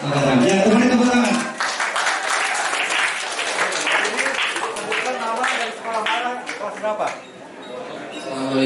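Schoolroom applause from a crowd of high school students at SMAN 68 Jakarta, a loud dense wash of clapping that sounds full for the first couple of seconds, then carries on slightly softer with cheering and voices mixed in.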